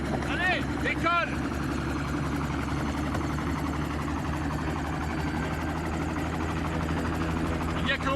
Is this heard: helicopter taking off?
yes